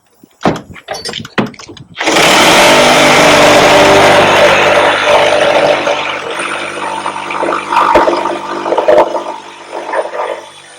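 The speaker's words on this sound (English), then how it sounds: "mark that and cut it with the Sawzall" A reciprocating saw cuts through a shed fascia board: a few sharp knocks first, then a loud, close, sustained buzzing whine that continues for most of the clip before tapering off near the end.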